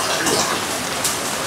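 Rain falls steadily at a waterfall campsite, a dense even hiss of drops on surfaces, close and continuous without pause.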